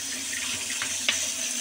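Running tap water streams over dried beans being washed in a sink, a steady close splashing flow with a brief louder splash near the end, no voices.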